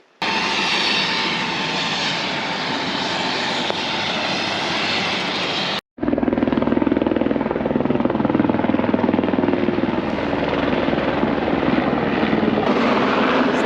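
A helicopter flies near the Namche Bazaar heliport in Nepal, a steady loud rotor and engine roar that cuts out briefly and then resumes close by, with no voices.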